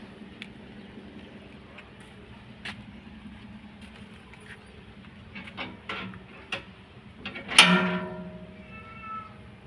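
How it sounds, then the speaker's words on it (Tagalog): A pet cat meows and cries a few times in a quiet home during the rainy season, with one louder, higher cry near the end standing out over a low background hum. "Nagka-cry-cry naman yung alaga ko."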